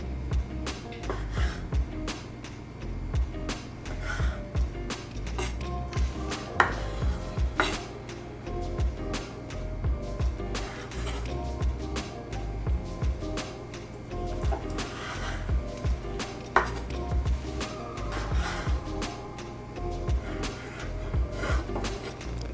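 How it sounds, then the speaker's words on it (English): A knife chops squid tentacles into small chunks on a cutting board, making a long series of irregular, close, sharp taps and knocks with uneven rhythm and short pauses between bursts. "The tentacles need to be cut in smaller chunks because they tend to be very chewy."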